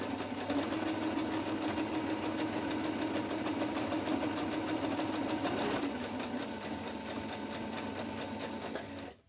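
A sewing machine runs a straight stitch across a cloth face mask, a fast, even mechanical chatter close by that keeps a steady rhythm and slows slightly near the end before stopping, with no talk.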